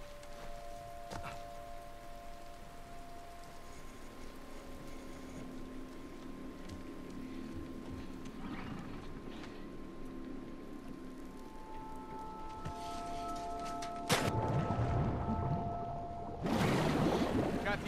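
A boat engine in The Last of Us Part II runs as a low, steady hum with faint tonal whines, joined near the end by louder splashing, rushing bursts.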